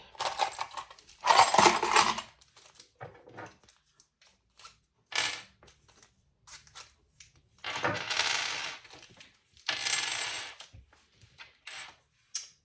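Metal D-rings for a sling crossbody bag are handled and clinked on a sewing table, giving several short bursts of jingling metal separated by quiet gaps and soft handling noises, close up, with no talking.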